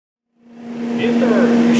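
A refrigerant recovery machine pulling R134 refrigerant spins up from silence into a steady mechanical hum with a strong whirring tone, growing louder and holding constant.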